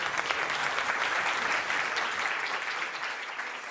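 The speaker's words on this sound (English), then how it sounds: "can we have a big round of applause for George?" A live audience at a science festival event in Edinburgh applauds, a dense, steady wash of many hands clapping close by for several seconds, fading slightly toward the end.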